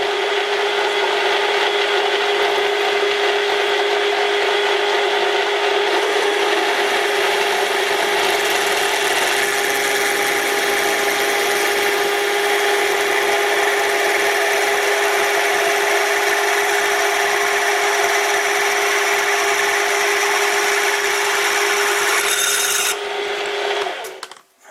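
Metal lathe running at 550 RPM while a drill bores into metal, a steady loud tonal whine with a scraping cutting texture lasting over twenty seconds before cutting off abruptly, with no speech.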